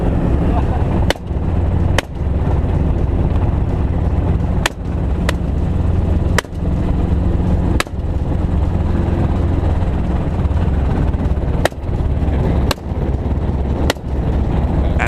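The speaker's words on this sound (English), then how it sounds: "As the plane takes off, hunters are lifted high" A private plane taking off for a feral hog hunt in Texas: a loud, close, steady engine roar runs throughout, broken by a few sharp clicks at irregular intervals.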